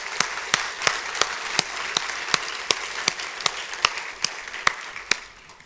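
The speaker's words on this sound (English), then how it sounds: "Let's give them another round of applause." Scattered clapping from a small audience, distinct individual claps in a loose rhythm that taper off toward the end.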